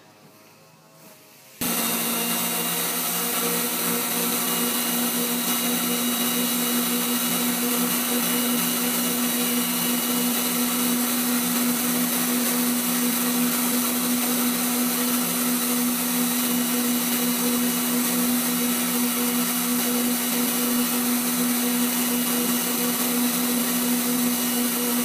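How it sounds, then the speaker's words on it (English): Bridgeport milling machine starting up and running continuously during a trial cut on R8 tooling, a loud steady motor whine and hum that holds unchanged after a quiet start. "So we'll take a trial cut through and see how we're looking"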